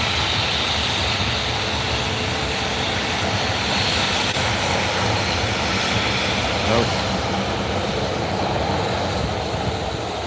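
An airliner taxis at Edinburgh Airport, its engines giving a steady, broad roar that holds at a constant level throughout.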